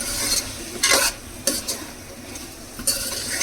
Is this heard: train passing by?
no